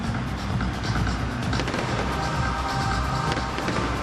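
Huge clusters of fireworks go off at the 2019 African Games opening ceremony, heard as a thick, loud wall of crackling blasts and low rumbling booms that never lets up.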